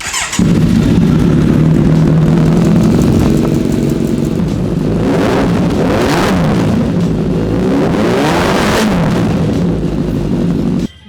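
A Ducati Panigale V2 motorcycle engine revs loudly up close, idling roughly then climbing through two sharp, screaming throttle blips before settling back down.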